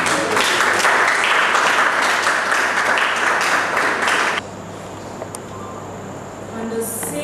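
An audience at a poetry talk show at the Maison Francaise, Legon, claps in loud, steady applause for several seconds, then it stops abruptly, leaving quiet room tone and a faint voice.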